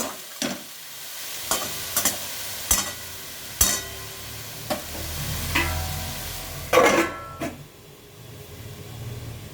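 Tender red spinach is stirred in a hot pan, giving a steady sizzle broken by several sharp spatula clicks and scraping strokes against the pan, close up with no voices.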